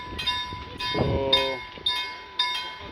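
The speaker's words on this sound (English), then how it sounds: "It's another train coming here." A train passes close by at a seaside spot, its rumble and clinking wheels running steadily while a brief voice speaks over it.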